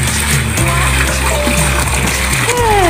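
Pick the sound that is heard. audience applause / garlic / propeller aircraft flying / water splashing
water splashing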